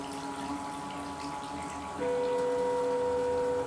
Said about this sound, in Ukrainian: Спочатку водичка наповнюється, піднімає там какашки всі, а потім під напором води помпою змивається в каналізацію.